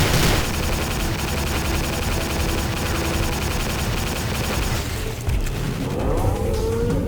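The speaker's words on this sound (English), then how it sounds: "you pick up his gun, which is like a heavy machine gun with a grenade launcher, and you take him down with it" Heavy machine gun with grenade launcher fired during a boss fight in the 2006 video game Prey: dense, continuous rapid gunfire and booming impacts that hold loud and steady for about seven seconds, with no talk.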